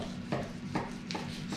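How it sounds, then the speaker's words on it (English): A knife carves thin slices from a rested rare roast beef, four soft rasping strokes spaced about a beat apart, close and quiet against a faint steady hum. "We can just carve it in some thin"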